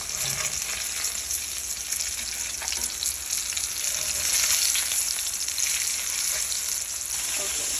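Thick fish fillets sizzle steadily in hot frying oil, a dense continuous crackle holding even loudness throughout with no voices.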